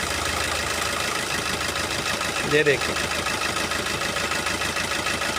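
A car engine idles steadily and loudly during a scanner test of its fuel injectors, with one injector switched off, and someone speaks briefly over the running motor.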